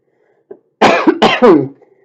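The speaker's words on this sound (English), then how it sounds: "Sorry, guys, for the heavy breathing and the coughing." A close asthmatic cough fit: a tiny throat noise, then a harsh cough and two more rough coughs in quick succession.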